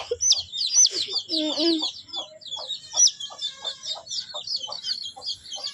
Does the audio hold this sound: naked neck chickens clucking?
yes